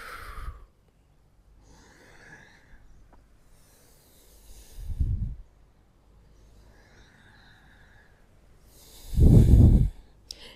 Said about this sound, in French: J'inspire à l'avant, j'expire à l'arrière.